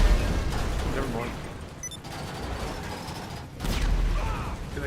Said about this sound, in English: Dude, they keep exploding